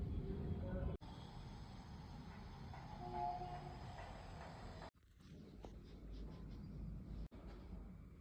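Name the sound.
metro train passing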